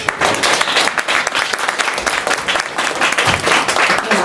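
An audience at a hanok music concert gives loud, dense applause to welcome a professor, a continuous wash of many clapping hands throughout.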